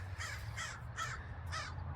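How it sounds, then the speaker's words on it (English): A crow cawing four times in an even rhythm, moderately distant, over a low rumbling engine-like hum. "Crow's doing its crow things, whatever crows do."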